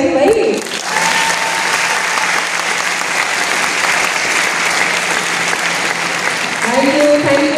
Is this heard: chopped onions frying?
no